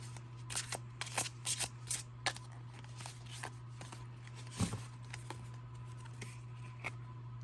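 A deck of tarot cards is shuffled close by, with quick papery riffles and soft slaps in irregular bursts against a quiet room hum.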